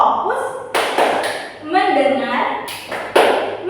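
Children in a classroom clap routine give two quick, sharp claps in a row, with a further clap a few seconds later and voices talking throughout.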